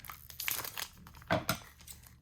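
Crinkly foil wrapper of a Pokémon trading card pack being torn open, with scattered crackling and a couple of louder rips close by, fairly quiet overall.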